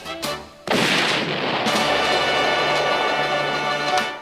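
A cartoon-style explosion sound effect for novelty exploding cigars in a radio gag ad, with a few quick pops followed by a loud, sustained booming blast that rumbles and fades out.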